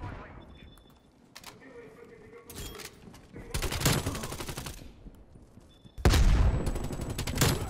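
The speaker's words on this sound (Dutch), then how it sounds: "Oh joh, dat was een goede granaat van hem." Gunfire and a grenade blast in Call of Duty: Black Ops Cold War, with rapid rattling bursts of shots building to a loud, sudden explosion-like crash about two-thirds through, followed by sustained heavy firing.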